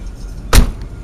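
A single solid thump comes as the door of a 1984 Chevrolet Monte Carlo CL shuts, heard close against a quiet background.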